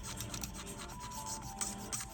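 A hobby knife held flat scrapes back and forth along a seam line on a model part, a quiet, close rasping rub in quick repeated strokes.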